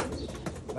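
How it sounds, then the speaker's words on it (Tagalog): Pigeons raised from eggs brought in from Japan murmur in a soft, low coo, heard briefly and close by. "Itlog na dumating, kalapati na."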